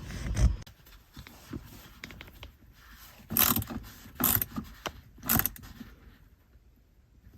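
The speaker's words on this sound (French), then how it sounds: "vous serrez jusqu'au contact et ensuite vous mettez la deuxième vis" Small screws on a Volkswagen or Audi start-stop button cover are tightened, with soft ratcheting and scraping and three louder bursts of handling near the middle, quiet and close.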